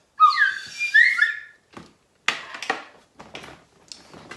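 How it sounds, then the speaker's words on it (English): A toy whistle from a children's holiday Bible club craft table gives two shrill warbling blasts up close, followed by scattered clatter and knocks of objects being handled. "I've got a whistle."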